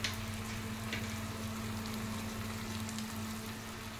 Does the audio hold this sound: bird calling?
no